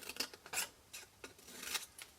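Several crisp snips of scissors cutting paper, irregularly spaced, close up and fairly quiet, with no talking.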